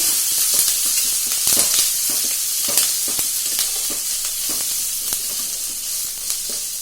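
Steady, loud sizzling of finely chopped ginger frying in a hot pan, with scattered crackles and pops throughout and no talking.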